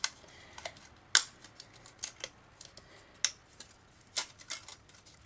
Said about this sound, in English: So we go in there with the scissors.